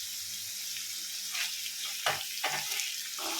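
Sliced onions and capsicum frying in a pan: a steady, close, loud sizzle with a few sharper crackles and spatula stirs as the vegetables go in; no talk.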